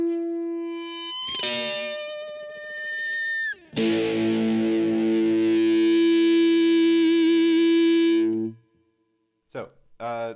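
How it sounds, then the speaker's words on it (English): An electric guitar note through a DigiTech FreqOut pedal swells into sustained, distorted harmonic feedback, with pitch shifts, a long held squealing tone, then an abrupt cutoff and brief bursts. "hit this FreqOut switch to get that sound"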